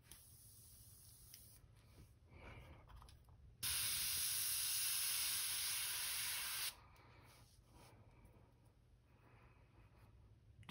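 An airbrush sprays black ink onto a custom crankbait fishing lure, a steady close hiss lasting about three seconds, framed by quieter faint handling noises and a low background hum.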